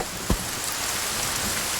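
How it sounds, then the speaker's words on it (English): Rain falling in the video game Sons of the Forest, a steady dense hiss of downpour filling the whole moment, with one brief low thump near the start. "Oh, it's raining."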